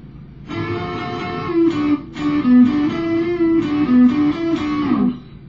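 An electric guitar plays the second guitar part of a song, a short melodic phrase of clear, sustained notes with brief pauses between groups of notes, heard alone.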